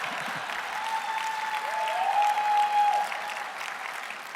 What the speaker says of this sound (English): Okay, Chloe, go ahead and clap.